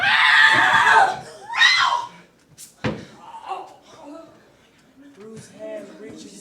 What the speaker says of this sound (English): A child scream!